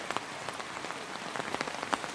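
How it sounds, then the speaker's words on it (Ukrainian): Steady rain falls on a yard in the Carpathians after a drought, a dense hiss of drops with sharper taps spattering nearby surfaces throughout, no voices. "Але йде дощ."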